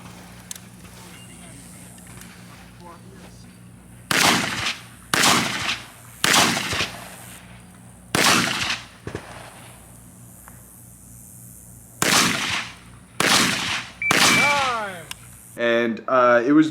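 A Zastava M90 rifle fires at a Kalashbash shooting competition, with about ten loud, close shots in two quick groups separated by a pause over a low background hum.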